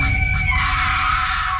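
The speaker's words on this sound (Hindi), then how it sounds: "लड़की चिल्ला रही थी और मदद मांग रही थी" A girl screams in a horror story, a loud sustained shriek with strained tonal overtones layered over a heavy low rumble, continuous throughout.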